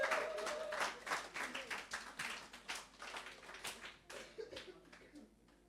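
A church congregation clapping and applauding in praise during a French-language sermon, a scattered run of claps that starts dense and thins out, moderately faint with some room echo.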